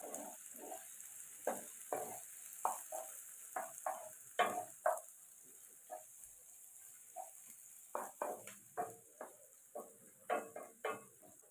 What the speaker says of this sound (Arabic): شوحنا كده الفلفل شوية مع اللية والزيت